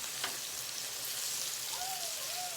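Chicken fries in oil in a pot, a soft, steady sizzle with faint crackling heard close by, quiet and with no talk.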